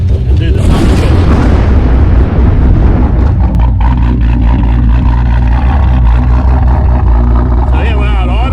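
A slammed Holden VF Commodore's engine fires up and holds a loud, steady exhaust drone close by, with a sharp burst at the start settling into a constant heavy rumble; voices are heard over it.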